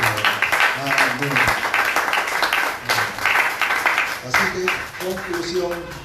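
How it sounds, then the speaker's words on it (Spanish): Congregation applauding in a church during a sermon, with clapping mixed with voices and what sounds like music or singing, ongoing and fairly loud throughout. "Denle un aplauso a nuestro Señor."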